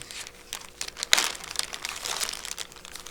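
Playing cards handled during a subtraction matching game: soft papery rustles and crinkles, with one sharper snap of card stock near the middle, close and fairly quiet.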